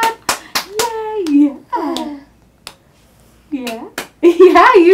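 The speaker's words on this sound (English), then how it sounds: "She's clapping." A child's hand claps sound as a few sharp, quick bursts near the start, mixed with cheerful adult voices and a child's vocalizing in a home setting with someone who has a cochlear implant.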